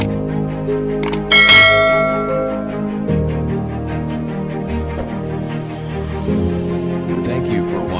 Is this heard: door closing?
no